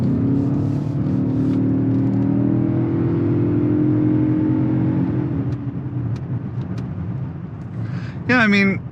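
A 2023 Lincoln Corsair Grand Touring PHEV accelerates from inside the cabin, its engine hum swelling and rising in pitch for several seconds before easing off, with a brief voice near the end.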